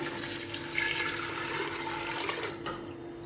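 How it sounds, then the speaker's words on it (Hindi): Water from a glass being poured into a pressure cooker holding raw meat and garlic for Afghani pulao stock; a steady splashing pour lasting about two and a half seconds before it stops abruptly, fairly quiet and close. "साथ ही इसमें मैं 2 गिलास जो है वो पानी के ऐड कर दूंगी"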